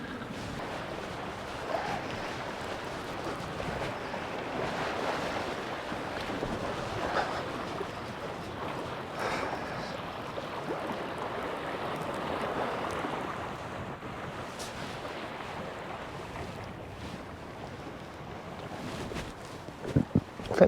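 Wind buffets a small fishing boat at sea, a steady rushing roar with gusts against the microphone and water sloshing against the hull, continuous for the whole stretch with a few knocks near the end.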